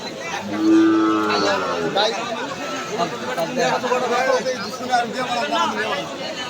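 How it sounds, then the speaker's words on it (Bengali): Sahiwal cattle at a livestock market lowing, with one loud, close moo early on, then a busy crowd of people chattering and bargaining around the animals. "সারি সারি সব সাইওয়াল খুব সুন্দর একটি গরু সাহেওয়াল"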